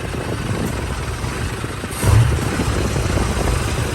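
A troubled vehicle engine runs steadily at close range with a low, rough rumble, giving a brief louder surge midway with no talk over it.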